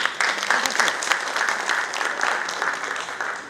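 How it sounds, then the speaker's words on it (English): Steady applause from a crowd at a business round table in Kolkata, many hands clapping continuously and fairly close throughout. "request you to welcome them with a huge"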